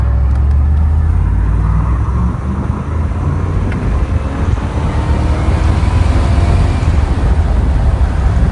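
A 1978 Chevrolet Corvette Indy 500 Pace Car accelerates nearby, a loud, steady low engine rumble that holds strong throughout with no talk over it.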